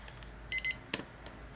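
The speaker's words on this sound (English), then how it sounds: "and turn the alarm off" Alarm clock ringing with two short electronic beep bursts, followed by a sharp click or clack and some faint handling noise, close and fairly quiet.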